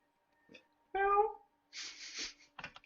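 During a tabletop role-playing session, a person mimics a cat with one drawn-out, nasal meow in the middle, surrounded by brief breathy vocal noises and mouth sounds.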